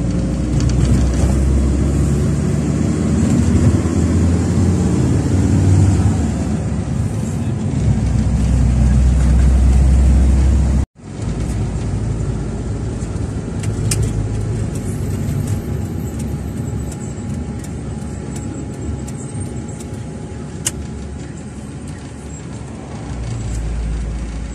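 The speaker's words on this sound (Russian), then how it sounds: "приехали мы на маршрутке" A marshrutka minibus drives along the coastal road from Gagra to New Athos in Abkhazia, its engine and road rumble a steady loud drone from inside the cabin, briefly cutting out once before resuming.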